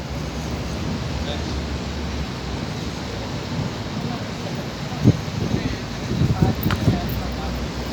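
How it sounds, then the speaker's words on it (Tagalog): Steady roaring strong wind buffets the microphone outdoors at a street corner in Al Nahda, a constant rushing noise with a few louder gusts and faint background sounds near the end. "ang lakas ng hangin, oh"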